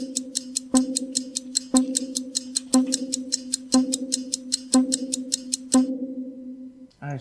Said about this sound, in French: Tic-tac.